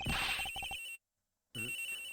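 A cell phone ringing in the video game Ace Attorney Investigations, a bright electronic ringtone that pulses, drops into a short silence, then starts again.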